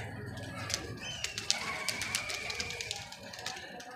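Pigeons coo in soft low throaty calls nearby, mixed with scattered wing flaps and brief sharper bird sounds.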